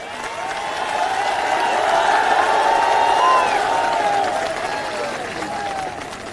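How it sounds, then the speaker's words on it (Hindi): A large crowd applauds and cheers at a BSP political rally in Rewa, Madhya Pradesh, the clapping swelling to a dense, sustained roar in the middle and then easing off, with no speech over it. "एक बार जोरदार तालियां हमारे सभी युवा साथियों के लिए"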